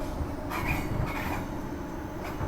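A 2-car passenger train rumbles steadily from close by, with a low rolling wheel noise and faint rail clatter throughout, and no talk.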